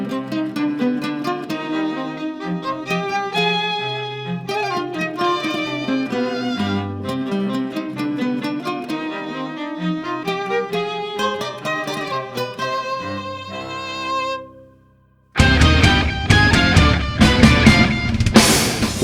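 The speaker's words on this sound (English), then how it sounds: "violinist William Stewart, cellist Brandon Chung, and myself on classical guitar as the fourth string of the quartet. We'll be playing the orchestra pit theme" String quartet of violin, cello and classical guitar plays an orchestral theme softly and close, melodic lines over sustained strings, fading to near silence before a much louder, brighter full-volume passage bursts in.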